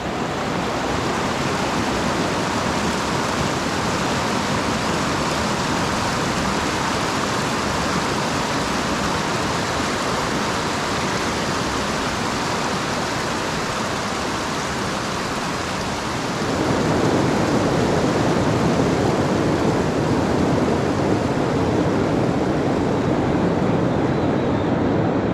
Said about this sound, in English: Just to wake up to those rapids.